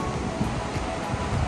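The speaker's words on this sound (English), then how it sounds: "This is the Liddar River in front. You can see it gushing" The Liddar River gushes with white waves in front of a riverside cottage in Pahalgam, Kashmir, as a steady, close, broadband rushing of water with light wind.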